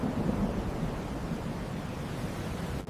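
A thunderstorm during a sea voyage, heard as a steady, loud rumbling roar of wind and rain that holds throughout, with a low thunder-like rumble and no distinct cracks.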